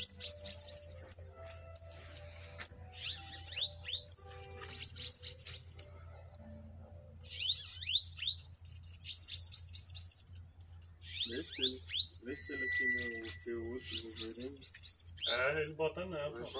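Sibite songbirds at a gathering of sibite keepers, giving repeated bright, rapid chirping phrases in quick bursts close by, with pauses between, and someone talking briefly near the end.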